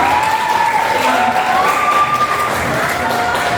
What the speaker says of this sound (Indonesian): Mari kita beri tepuk tangan yang meriah untuk Mas Anton.